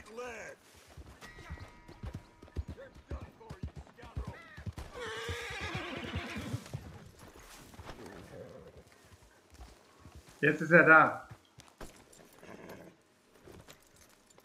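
A horse in Red Dead Redemption 2 whinnies loudly and trots up with clip-clopping hooves, the neigh bursting out near the middle, while someone talks over most of the scene.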